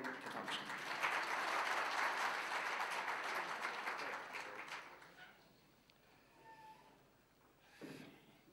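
An audience claps at a book launch event for five seconds, loud and dense, then fades into quiet room tone with a brief noise near the end.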